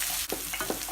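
Masala with green chili frying in a pan for a mutton liver dish, a steady close sizzle with a few soft stirring scrapes, no talk.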